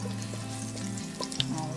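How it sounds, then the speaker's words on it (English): Garlic dropped into hot oil for Thai rad na gives a steady, close sizzle with small crackles and a faint clink partway through, no voices. "once the oil is hot, I'm going to add my garlic"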